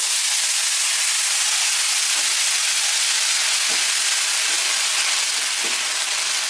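Water poured into hot fried spices for dhokla gives a steady, loud broadband sizzle and hiss that runs the whole time, with a few faint low knocks underneath.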